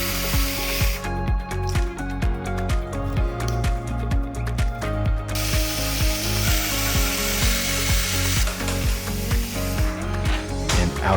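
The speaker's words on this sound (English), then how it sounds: "Finally, remove the bottom screws" Screws being removed from the bottom of a BLUETTI Pioneer Na sodium-ion power station, a string of close, sharp ratcheting clicks in quick bursts with brief pauses.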